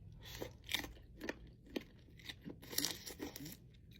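Shrimp from a spicy seafood boil with mushrooms and potatoes being bitten and chewed up close, with repeated crunchy bites and wet mastication sounds in an uneven rhythm, no talking.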